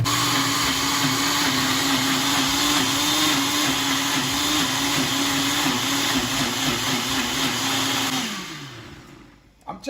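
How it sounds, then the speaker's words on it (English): A kitchen blender whirs steadily for about eight seconds while blending jerk sauce for Jamaican jerk pork, then winds down and stops near the end, with no talking. "Here comes the blender."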